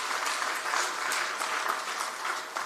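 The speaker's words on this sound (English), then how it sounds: "give her a round of applause" Steady, dense applause from a town hall audience at a Jamaican labour and social security ministry meeting, filling the room evenly throughout without talk.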